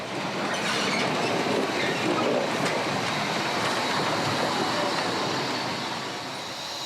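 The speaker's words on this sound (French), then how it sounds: "là on est en plein devant la loco 403 qui est sur cette ligne depuis 1903 quand même" Historic steam locomotive 403 working the 1891 Ardèche line, a dense continuous rumble of the moving train with wheel noise, loud and close, fading slightly at the end.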